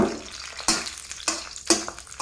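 A utensil scrapes and stirs in a sizzling pan, making rhythmic strokes about every half second, close and clear over a soft frying hiss.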